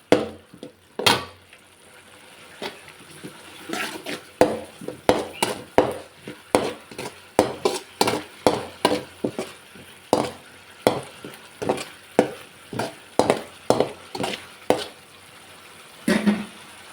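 Spoon stirring a pan of egg curry as turmeric is mixed in, giving a run of repeated scraping and knocking strokes at a steady rhythm, close and moderately loud over a faint background sizzle.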